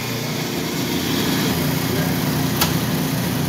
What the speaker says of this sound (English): Grind the beans to a quarter.